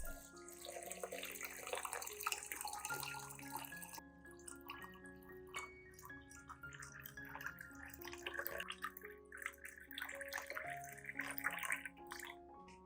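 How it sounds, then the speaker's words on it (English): About 500 millilitres of clean water is poured into a cup holding rice and eggshells, a steady trickling, splashing pour close by that runs throughout with soft music in the background. "Next, pour about 500 milliliters of clean water into the cup."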